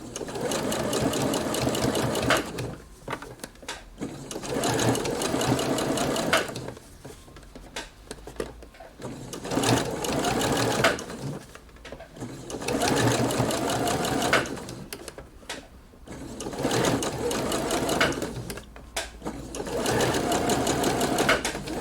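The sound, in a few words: sewing machine stitching around a sleeve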